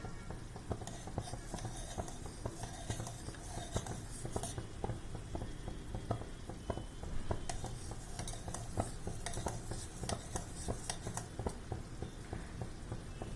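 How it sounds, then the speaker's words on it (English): Milk being stirred in a pan for saffron almond milk, with a steady stream of soft scraping and clinking from the spoon against the metal, close and continuous at a moderate level. "Keep stirring milk."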